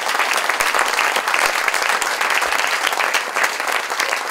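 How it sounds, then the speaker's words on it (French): An audience at a science talk applauds, steady dense clapping filling the hall, loud and continuous throughout. "moi, je voudrais qu'on l'applaudisse"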